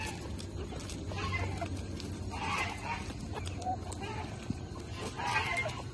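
Hens and young chickens, including a crested chick, clucking and squabbling in a flock, with several short calls rising over steady low background rumble and noise.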